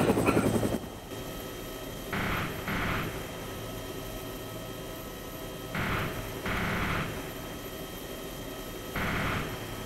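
A video-game helicopter's rotor thrums steadily at moderate volume, broken by a few short bursts of louder whooshing noise spaced several seconds apart.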